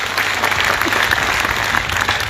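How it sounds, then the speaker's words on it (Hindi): Sustained, dense applause from an audience welcoming a guest at the inauguration event of an inter college, steady and loud throughout with no gaps or speech. "जोरदार तालियां बजा करके उनका अभिनंदन और स्वागत करने का"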